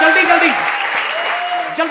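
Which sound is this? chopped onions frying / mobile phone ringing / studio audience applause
studio audience applause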